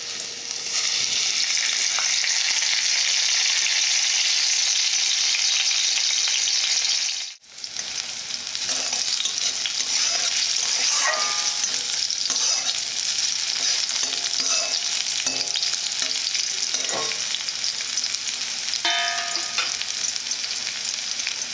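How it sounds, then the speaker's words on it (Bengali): Bitter gourd pieces fry in hot oil in a wok with a loud, continuous hissing sizzle. The sound drops out briefly for a moment partway through, then resumes, with scattered crackles and spatters. "প্রথমে কড়াতে তেল দিয়েছি দেওয়ার পর উচ্ছেগুলো ভেজে নেব"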